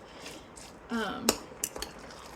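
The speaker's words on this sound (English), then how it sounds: "Stirring it all in as best I can." A utensil clinks a few times against a dish while jarred Alfredo sauce is stirred into cooked spaghetti squash, with a brief murmur of voice beforehand.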